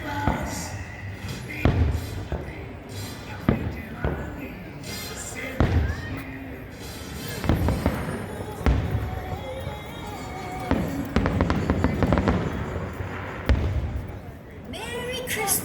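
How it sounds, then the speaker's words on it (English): A Christmas fireworks display at Dollywood theme park sends out a run of booming bursts and thuds at irregular intervals, with crowd voices and talk running underneath. "the finale of the evening was the park's Christmas fireworks display"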